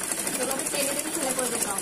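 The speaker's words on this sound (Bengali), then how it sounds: "এখন আমি ইলাস্টিকের মাঝখানে একটা সেলাই করে যাব।" A sewing machine stitches down the middle of elastic in a pant waistband, a steady close whirring hum with a fast rhythmic chatter throughout, and a voice talks over it.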